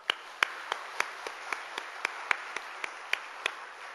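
Hands clap in a church, and the sharp, evenly spaced claps are distinct, falling roughly three per second, a bit distant, over a soft room hum with no talking.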